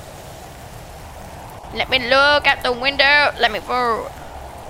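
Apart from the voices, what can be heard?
acid rain in a video game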